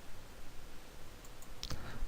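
A few quick, faint clicks like a computer mouse button, heard over a low steady background hiss.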